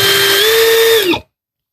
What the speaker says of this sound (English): Okay, let's start drilling.